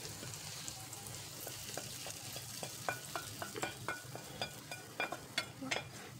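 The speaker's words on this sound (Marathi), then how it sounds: "तेलामध्ये आता घालूया आपण तडका दिलेला आहे" A tadka tempering sizzles quietly in hot oil for Indori poha, a soft steady frying hiss broken by a series of light spatula clicks and scrapes toward the end.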